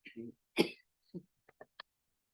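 A single sharp cough bursts out between brief murmurs, followed by a few faint clicks and small throat sounds.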